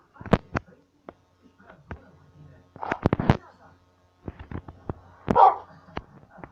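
A dog in the Minecraft video game gives a few short, sharp barks, scattered in bursts with pauses between, fairly clear against a quiet background.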